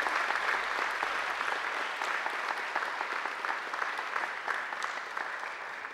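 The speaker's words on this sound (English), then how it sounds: "I now invite you to give them a mighty round of applause." Graduates at a February 2013 graduation ceremony give a sustained round of applause to their families and friends, a dense, steady wash of many hands clapping that fills the hall throughout.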